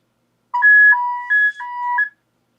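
A short sequence of clear electronic keypad tones, several distinct dual-pitch beeps in quick succession, loud and isolated against silence.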